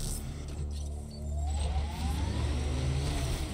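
A vehicle driving on ice in the Mass Effect Andromeda video game, a low steady engine drone that swells slightly as it accelerates, with a faint whirring rising tone over it.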